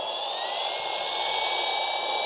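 Electric motor of a Trex 450LP Dominator RC helicopter spooling up in a garden, a steady high whine with rising tonal lines that climbs in pitch over a couple of seconds, close and continuous with no talk.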